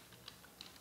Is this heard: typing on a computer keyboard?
yes